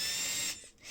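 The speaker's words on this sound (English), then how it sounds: "Let's drill" Whining power drill with a 5.4 mm bit boring out the remains of a broken plastic fitting on a car's EVAP fuel tank, loud and steady for half a second before spinning down and cutting out.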